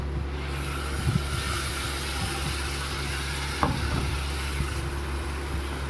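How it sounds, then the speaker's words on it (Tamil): Tomato paste sizzles while being sautéed in oil, a steady frying hiss with a few faint stirring knocks, no voices. "தக்காளி பேஸ்ட் ஆட் பண்ணி நல்லா வதக்கிக்கலாம்."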